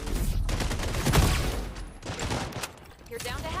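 Video game gunfire from freeze bullets rattles out in dense, rapid bursts, loud and close, with brief gaps between volleys and busy game noise underneath.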